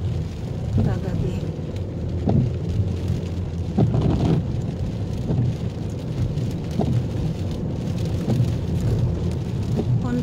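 Steady rain falling outdoors on a rainy day, a continuous loud hiss of drops with occasional louder spatters and low rumbles, no one speaking over it.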